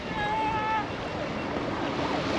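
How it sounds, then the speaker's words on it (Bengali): Large Bay of Bengal waves at Dhanushkodi surge in a steady broadband wash, with a whistling or wind-like tone early on, outdoors with no talk. "আর ওইদিকে বড় বড় ঢেউ।"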